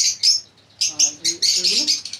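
Lovebirds in breeding cages give short, bright chirps in quick bursts, close by, with a brief lull early on and a voice faintly underneath.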